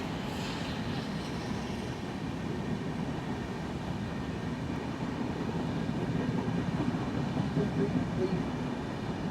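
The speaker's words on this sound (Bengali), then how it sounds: "লাইন থেকে নতুন ট্রেন যাচ্ছে" A train rolls along a railway line beside old wrecked coaches at the Jnaneswari Express accident site, a steady low rumble that swells slightly toward the end, heard alone.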